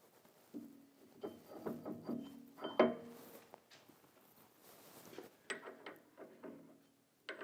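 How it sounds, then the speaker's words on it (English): A grinding wheel is fitted back onto a MAG-8100 lawn mower blade sharpener, making a few close, quiet metallic clunks and sliding knocks with scattered small clicks. "We can place the grinding wheel back on."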